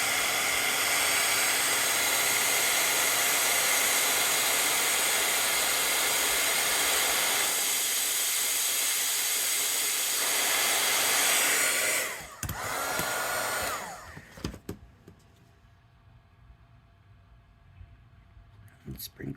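A heat embossing tool blows hot air to melt embossing powder in a mixed-media craft session: a loud, steady hair-dryer-like roar for about twelve seconds, then it cuts off, leaving a few clicks and soft handling noises.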